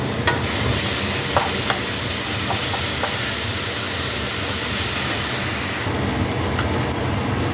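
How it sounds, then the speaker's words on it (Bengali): Garam masala powder is stirred into egg biryani in a pan, giving a continuous loud sizzle and hiss with a few scraping stir knocks, close up and without speech. "ভালো করে মিশিয়ে দিলাম গরম মশলা গুঁড়ো"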